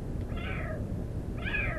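A two-month-old kitten trapped in a ventilation shaft gives two hoarse, strained meows, each about half a second long, over a low background rumble.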